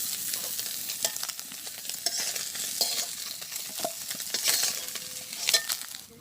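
Fish sizzle in hot oil in a pan, a steady crackling fry broken by sharp scrapes and clinks of stirring, close and fairly loud, with no talking.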